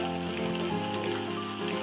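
Spiced meat with red chilli powder, green chillies and salt fries in oil, making a dense, continuous close sizzle and crackle with no talking.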